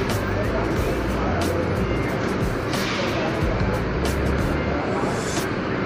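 A Puspa Jaya bus on the Lampung–Blitar route pulls into Tamanan bus terminal in Kediri, its steady engine rumble close and continuous amid terminal bustle and murmured voices.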